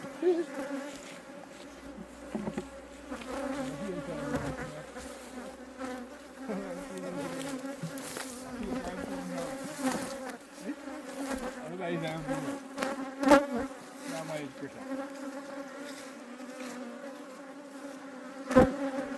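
Bees buzzing steadily from an opened hive box during beekeeping and hive splitting, a dense continuous drone close by with a few sharp knocks and clatters from the box.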